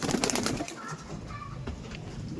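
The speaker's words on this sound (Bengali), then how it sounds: "এই দেখুন এইটা হচ্ছে আর একটা ফিমেল পায়রা, ছেড়ে দিলাম তাহলে এটা যা" A female pigeon is let go and flutters off with a brief burst of flapping wings close by, followed by softer rustling and faint cooing in a loft.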